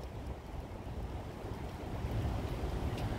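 Cold wind blowing steadily outdoors in Burlington, Massachusetts, a broad continuous rush and buffeting on the microphone, loud and unbroken throughout with no talking.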